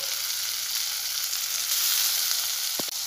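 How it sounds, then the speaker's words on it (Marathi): Chopped tomatoes frying with onions in a pan for egg bhurji, giving a steady, close sizzle with a brief stirring clatter near the end. "आता यामध्ये आपण टोमॅटो टाकणार आहोत चिरलेले आणि याला व्यवस्थित फ्राय करून घेणार आहोत"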